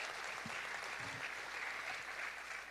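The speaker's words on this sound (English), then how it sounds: "So I just want to start by applauding you for being who you are." Steady applause from a school board meeting audience, a continuous even wash of many hands clapping, moderately distant, with no talk over it.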